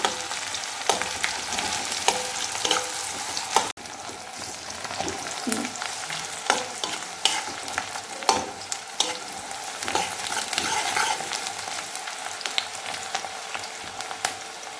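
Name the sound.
onions frying until browned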